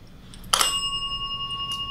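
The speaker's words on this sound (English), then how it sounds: "I have this other bell here. I'm just gonna go ahead and set it right here." A small bell is tapped once on top, giving a sharp ding that rings on with a clear, slowly fading tone in a quiet room.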